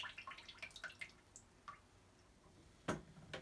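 Water drips from the pressure relief valve of a Navien tankless water heater being drained during cleaning, a quiet run of small, irregular drops followed by a couple of louder splashes near the end, with no talking.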